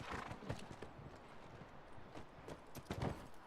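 Horse hooves clip-clop in a quick, steady rhythm in The Last of Us Remastered, faint and close with no talk over them.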